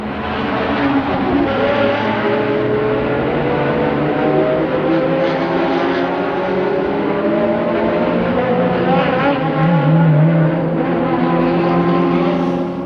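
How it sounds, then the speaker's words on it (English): Engines of Formula 1 race cars from the 1992 season roar loud and continuous in a crash replay, a steady dense drone with revving swells throughout. "Here's the replay of the crash that was sure to ignite various interpretations."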